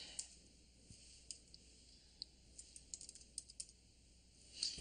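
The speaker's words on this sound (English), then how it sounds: "Or you can begin to type." Light, quiet keystrokes tap on a computer keyboard, a loose patter of soft clicks with short pauses, close but faint over a low background hiss.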